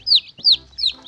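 Three evenly spaced peeps from a little yellow chick, each a high, sharp chirp that slides downward, heard up close and alone against a quiet background.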